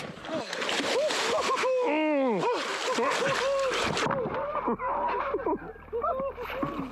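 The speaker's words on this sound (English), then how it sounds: "Okay, so we're gonna go for a polar dip." People plunge into cold water for a polar dip during a canoe trip, with loud splashing and sloshing mixed with excited shrieks and shouting voices throughout.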